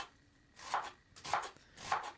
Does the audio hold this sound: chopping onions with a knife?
yes